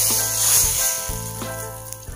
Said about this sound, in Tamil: எண்ணெய் சூடாயிட்டு சூடான எண்ணெயை மீன் குழம்புல சேர்க்கணும்